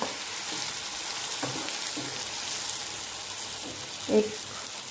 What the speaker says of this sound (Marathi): हे वाटण व्यवस्थित भाजून घ्यायचं आहे आपल्याला तेलामध्ये।